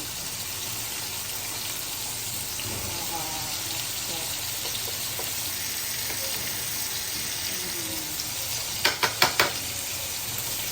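Surmai fish pieces fry in hot oil over a high flame with a steady, moderate sizzle, and a quick run of metallic clinks comes near the end.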